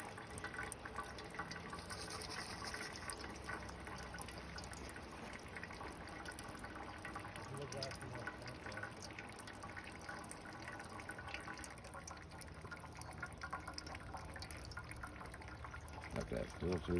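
Water trickles and pours through a homemade filter in a steady, continuous stream. It stays soft and constant, with light dripping, while people talk over it.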